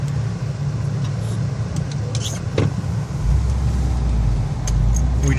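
Cars revving and straining through snow during a storm, engines droning close by with a louder surge partway through, amid steady outdoor noise and a voice speaking.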